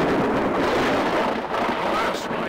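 Rain pours with rumbling thunder in the Playtoons adventure game on Windows 3.1, a dense, loud, continuous roar that fills the whole stretch.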